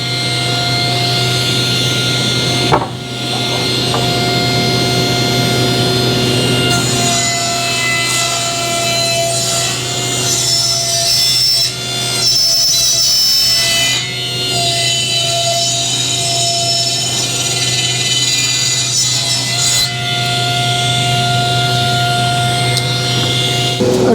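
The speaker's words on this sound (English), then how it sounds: "Okay, we're at the radial saw here" A radial saw cuts wooden pieces for a porch swing: a close, steady motor whine runs throughout while the blade bites into the boards in several rasping passes, with brief dips between cuts.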